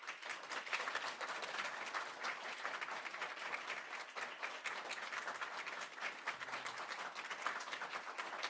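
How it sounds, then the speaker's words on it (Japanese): An audience at a cram school entrance ceremony applauds as new students enter, steady crowd clapping that stays dense and even for over eight seconds at a moderate, somewhat distant level. "盛大な拍手でお迎えください。"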